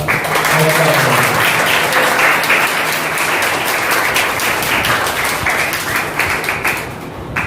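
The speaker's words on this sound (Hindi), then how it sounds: "तालियां बजाकर अपने सर का हौसला बढ़ाएं।" Applause from an audience at a Delhi Minorities Commission event, dense sustained clapping that stays loud and fairly even throughout, slowly thinning toward the end.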